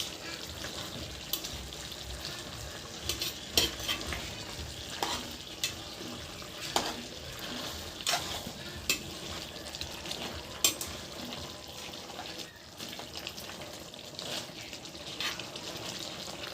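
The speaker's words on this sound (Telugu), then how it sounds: "మిక్స్ చేసుకుందాం, మంచిగా మిక్స్ చేసుకుందాం." Spices and salt being mixed in a cooking pan: steady low sizzling with repeated scraping and clinking of a spoon against the pan in an uneven rhythm, close by and without talk.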